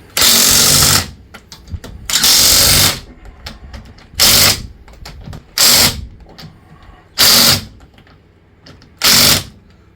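A power tool gun buzzes in short loud bursts while coilovers are fitted to a car, six rattling runs of one to two seconds separated by pauses filled with faint clinks and handling noise.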